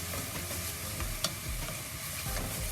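Onions fry in a pan for mushroom biryani, a steady sizzle broken by scraping stirs and a sharp clink near the middle, close and continuous with no talking.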